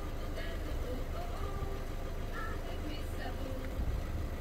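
A SEAT Ibiza car engine idles steadily with a low, continuous rumble while warm, and faint voices are heard in the background throughout.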